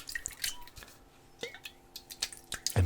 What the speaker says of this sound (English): this is just a bit of formula that can be sprayed on the tires